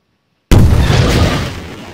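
A rocket launched in Garry's Mod with the Nuclear Warfare mod bursts in suddenly after a silent half second as a loud, close boom. A roaring, crackling rumble follows and slowly fades.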